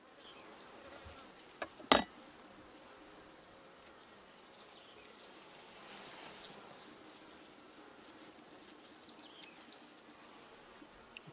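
Bees buzz softly and steadily around an opened horizontal beehive, a faint continuous drone with one brief louder knock or bump near the start.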